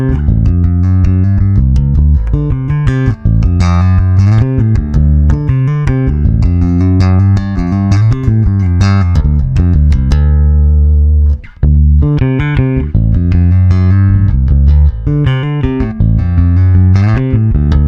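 A G&L bass is played in parallel mode on its neck pickup alone, with a continuous run of loud, close, deep plucked notes and one brief pause partway through.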